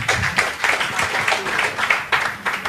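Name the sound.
audience applause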